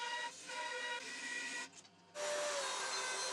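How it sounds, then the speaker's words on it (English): Bandsaw with its table angled, tapering wooden wardrobe-door handles: a steady, close whine of the cut running continuously, with a short dip partway through before the blade bites back in at full loudness. "I want to taper these too, so I'm going to do that by angling the table on the bandsaw."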